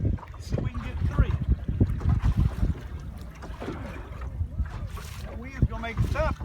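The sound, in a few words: wind blowing on the water while out in a boat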